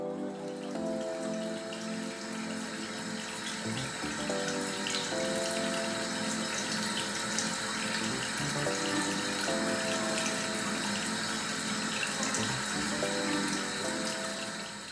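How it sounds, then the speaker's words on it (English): Tap water runs steadily into a sink as a face is rinsed, giving a constant splashing flow with intermittent tonal gurgles and close, moderately loud sound. "Now I'm gonna rinse it off."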